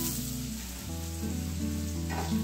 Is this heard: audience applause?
no